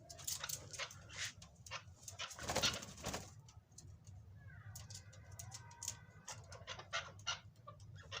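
A caged chakor partridge calling during breeding: repeated short, sharp calls in irregular bursts against a low background hum, fairly faint.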